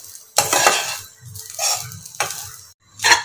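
Grated coconut being stirred in a pan for Tamil-style coconut burfi, a few distinct scraping strokes of a spoon against the pan with gaps between, close and clear, with faint sizzling and a low background hum.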